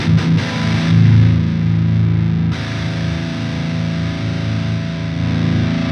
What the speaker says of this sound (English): let's switch back to the distortion